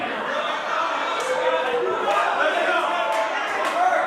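Capacity crowd at a wrestling show, a steady broad roar of cheering and chatter filling the venue throughout, with occasional louder swells; commentator voices sit under the crowd noise.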